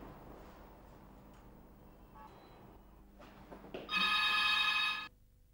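A telephone bell rings in one loud, sustained burst of about a second, following quiet room noise and soft rustling, with no talk.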